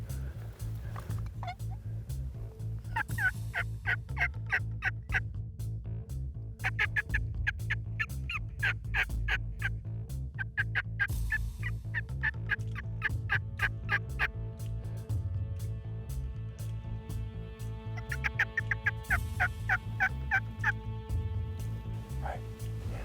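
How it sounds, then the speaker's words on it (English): Wild turkeys gobble repeatedly across the span, rattling calls rising in several bursts over a steady low engine-like hum, with some faint further gobbles in the distance. "it looks like they're just about to come across their first encounter with some strutting turkeys"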